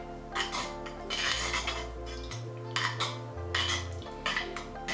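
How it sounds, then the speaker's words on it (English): Spoon stirring coconut cream into curry sauce in a pot, giving soft repeated scraping and clinking against the metal, fairly quiet with a steady low hum beneath. "Stir it together."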